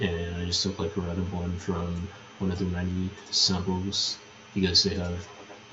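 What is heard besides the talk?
No everyday noise stands out behind the speech.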